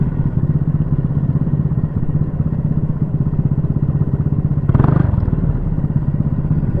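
A go-kart engine drones steadily through a race at a kart track, a close, continuous buzzing rattle with a brief louder surge near the end.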